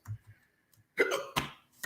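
Several short, close hiccups from one person, with small throaty catches and a couple of sharper bursts in an otherwise quiet room.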